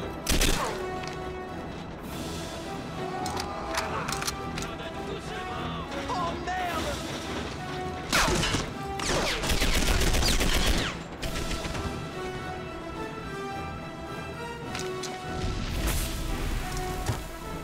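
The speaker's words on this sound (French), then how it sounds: "je tire dans le mur quoi" Repeated bursts of gunfire from the World War II shooter Medal of Honor: Airborne sound loud and close, with heavy impacts and crashes mixed between the shots over game sounds.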